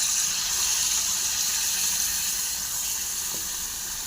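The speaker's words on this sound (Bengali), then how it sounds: "পরিমাণ মতো গরম জল দিলাম" Hot water poured into a pan of spicy country chicken curry, a steady broad sizzle and bubbling hiss that holds evenly throughout and eases slightly toward the end, with no voices.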